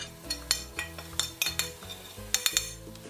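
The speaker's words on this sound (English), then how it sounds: "Give that a good old mix around." A spoon stirs cloves, peppercorns, cinnamon, nutmeg and cumin into a pot of Greek beef stifado, giving a series of close, bright metallic clinks and scrapes against the pot in an irregular rhythm.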